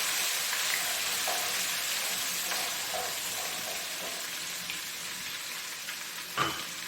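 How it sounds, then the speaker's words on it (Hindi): Ginger and garlic fry in a pan with a steady soft sizzle and crackle, close but quiet, with a brief clink of a utensil near the end and no voices. "अब इसी में मैं डालूंगी अदरक लहसुन, इसको थोड़ा सा फ्राई करूंगी।"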